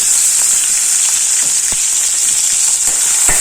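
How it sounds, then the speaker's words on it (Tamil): Ingredients sizzling in hot oil for a mutton and radish thanni kuzhambu, a steady bright frying hiss with small pops and crackles, close and continuous with no talking. "நல்லா எண்ணெய் ஹீட் ஆகட்டும். இது நல்லா பொரியட்டும்."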